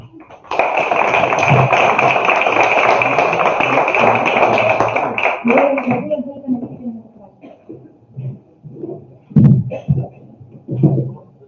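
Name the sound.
audience applause for the municipality representative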